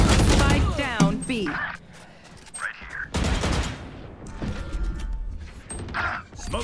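Gunfire in the Valorant shooter game comes as quick bursts mixed with mechanical clicks and reload sounds, close and loud, broken by short gaps.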